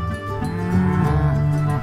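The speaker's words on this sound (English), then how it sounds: "The bull." A Simmental bull on a farm gives a long, loud, deep moo that swells and holds steadily, heard close and alone.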